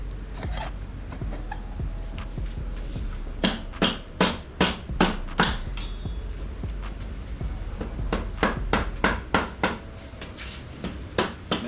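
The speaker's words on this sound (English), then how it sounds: "Basically just kind of whacking a couple spots here and there, and it helps it wiggle off." Sharp rubber mallet strikes on a Yamaha YZ250 dirt bike part, a few separate knocks and then two quick clusters of steady whacks, close and fairly loud with no talking.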